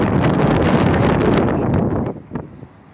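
Strong wind buffets the microphone on a street near Ulitsa Dybenko metro station in St Petersburg, a steady, loud roar that eases off near the end, leaving quieter gusts.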